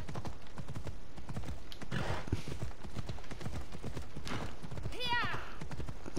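Steady clip-clop of horse hooves trotting close by in Assassin's Creed Odyssey, climbing a mountain, continuous and rhythmic, with a brief whinny near the end and a voice speaking over it.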